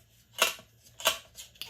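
Scissors cutting sheets from a 6x6 paper pad, with a few short crisp snips spaced about half a second apart, close and clear in a quiet room.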